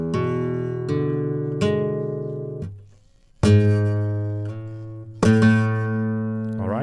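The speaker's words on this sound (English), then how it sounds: "where the thumb plays sixth string and then also includes the fifth string, and the sixth string is with the golpe." Flamenco guitar playing a falseta, the thumb striking the sixth and fifth strings with golpe taps on the top; several sharp plucked attacks ring out alone, with a brief pause midway.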